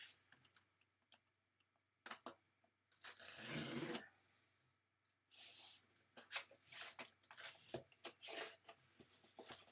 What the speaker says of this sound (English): let's open the packaging